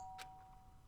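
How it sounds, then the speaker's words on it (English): Doorbell in the Danganronpa video game, one quick, bright chime with a faint ringing tail, quiet and brief under a steady low tone. "Sharp sound of the doorbell pierced my sleepy haze."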